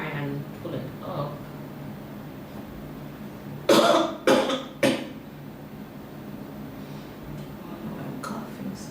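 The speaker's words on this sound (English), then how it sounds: "I'm coughing so much." A person coughs in a quick burst of about four harsh coughs, close and fairly loud, with quieter talking before and after.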